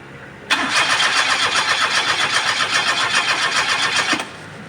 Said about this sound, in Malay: kita start dulu enjin